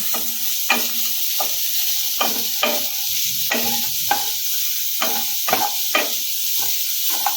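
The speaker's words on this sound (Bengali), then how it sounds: "আবারও এক মিনিট ভালো করে নেড়ে চলে নেব" Finely chopped vegetables for a winter veg soup sizzle steadily in a pan while a spoon scrapes and stirs them in a regular rhythm of about a dozen distinct strokes, close and clear with no voices.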